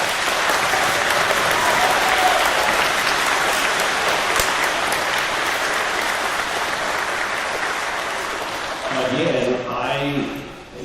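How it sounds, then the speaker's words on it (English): A crowd claps loudly and steadily for several seconds, then the applause fades as a voice begins speaking near the end. "Give yourselves a big round of applause."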